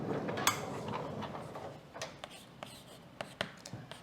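Writing on a board during a mathematics lecture: scattered taps and scratchy strokes, fairly close, with a few sharper ticks near the end over a soft room hum.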